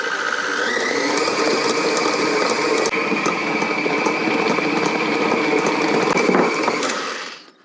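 Electric mixer beating gluten-free sandwich bread batter at medium speed, a loud continuous motor whir with a steady mechanical hum and faint rhythmic ticking, holding level for several seconds before spinning down abruptly at the end.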